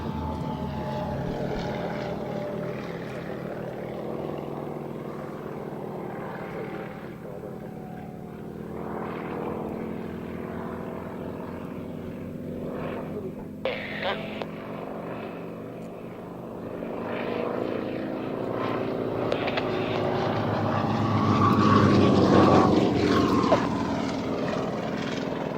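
A propeller aircraft flies an outside loop at an air display, its engine droning steadily for the whole stretch and swelling louder toward the end as the pitch shifts, with no voices over it.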